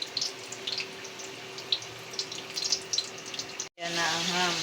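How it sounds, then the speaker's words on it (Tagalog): Ham frying in a pan, a close, steady crackle and sizzle with scattered pops, briefly cut off and then resuming more strongly. "Yan na ang ham. Piniprito ko na."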